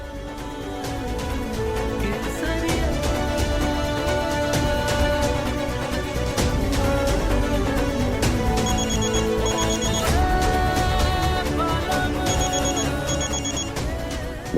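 A telephone rings in repeated bright electronic bursts, loud and continuous, over a dense musical backdrop in a Hindi television drama, with no talking.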